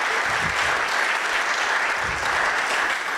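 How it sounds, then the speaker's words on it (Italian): An audience at a book presentation gives a writer steady, sustained applause, with dense clapping throughout and a faint voice underneath. "Un applauso a Giancarlo Ferron"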